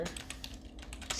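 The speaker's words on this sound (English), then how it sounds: "what we're going to do is just type in update underscore" Quick keystrokes tap on a computer keyboard, a brief run of light, evenly spaced clicks heard close up and fairly quiet, with no voice over them.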